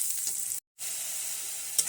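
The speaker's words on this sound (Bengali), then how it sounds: "পেঁয়াজটা ভেজে নিচ্ছি।" Onions fry in a pan with a steady, bright sizzle, cut by a brief dropout before the hiss resumes, ending on a small sharp crackle.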